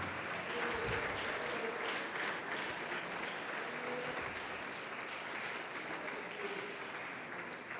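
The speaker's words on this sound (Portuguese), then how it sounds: "Pode aplaudir e glorificar a Deus." Church congregation applauding during a sermon, a dense, continuous wash of clapping that runs evenly for the whole stretch and sounds distant and soft, as if heard from the pulpit microphone.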